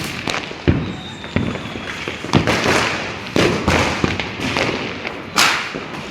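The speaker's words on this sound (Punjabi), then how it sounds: "ਪਟਾਕੇ ਦੀ ਜਿਹੜੀ ਆਵਾਜ਼ ਉਹ ਥੰਮ ਨਹੀਂ ਰਹੀ ਹੈਗੀ" Repeated loud bangs and crackles from strings of firecrackers in Amritsar at irregular intervals, with sharp pops over a continuous crackling background.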